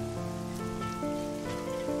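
Heavy rain pours down steadily, a dense, even hiss of drops on surfaces filling the whole moment at close range, with a faint tonal hum underneath and no voices.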